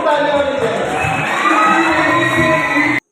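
A crowd at a Quaid-e-Azam Day celebration in Attock, Pakistan cheers and shouts loudly, with whoops and high voices over a dense roar that cuts off abruptly near the end.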